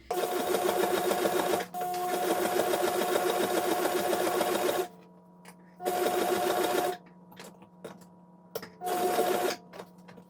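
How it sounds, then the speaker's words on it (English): Sewing machine stitching in bursts, several seconds of steady loud whirring broken by pauses, then shorter runs, close up and without talk. "now I have the sewing machine to do it"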